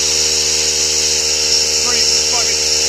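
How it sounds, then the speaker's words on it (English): A small air compressor runs with a steady, loud electric hum and buzzing whine, filling a tire to about 50 psi to seat the bead of a High Lifter Outlaw tire on its wheel. "Oh, air compressor came on."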